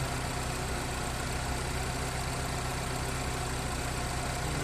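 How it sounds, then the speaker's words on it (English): Radiator cooling fan of a Chevy Equinox 2.4L runs steadily with the engine idling, a loud, constant whooshing roar over a low engine hum that stays even throughout, with no voices. "So now we got a working fan."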